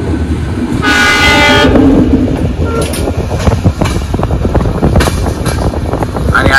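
A passenger express train hauled by a diesel locomotive rolls along with a steady rumbling clatter and rhythmic wheel clicks, a horn blaring briefly near the start, with wind buffeting the microphone.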